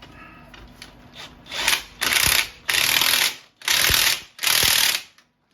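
Ratchet with a socket extension tightening bolts, several loud rasping clicking bursts in a steady rhythm separated by short pauses, close up.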